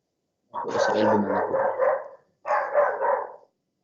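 A street dog barks in two close, loud bursts, the first longer and the second shorter, with a brief silence between them and nobody talking.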